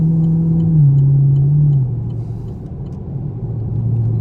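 A Chevrolet Camaro SS engine drones steadily while the car drives in traffic, a low, loud, continuous note that dips slightly and then settles back.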